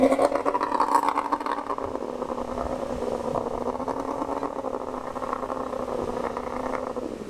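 A steady motorboat engine drone hums throughout, continuous and moderately loud, with no speech, at an island shore in Ko Samet, Thailand.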